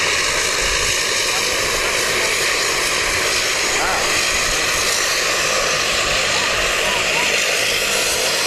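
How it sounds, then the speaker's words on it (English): A Pilatus PC-12 at Wellington Airport roars with a loud, steady engine and propeller drone that holds constant throughout, a faint shift in pitch midway, and voices barely present beneath it. "Yeah, Pilatus PC12."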